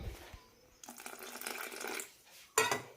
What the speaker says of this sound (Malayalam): കുറച്ചുകൂടി വെള്ളം ഒഴിക്കാം.